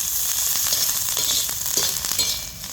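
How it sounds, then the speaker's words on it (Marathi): Green chillies roasting in hot oil in a pan: a bright, continuous close sizzle broken by occasional stirring scrapes, with no one talking. "थोडंसं मिरच्या भाजताना तेल घालायचं"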